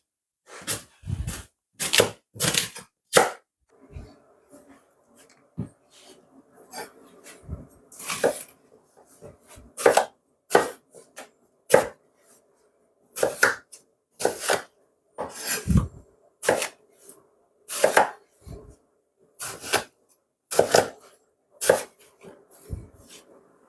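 A knife chops an apple for juice on a hard surface, making a long series of sharp, close knocks in irregular bursts and pauses, with no talking.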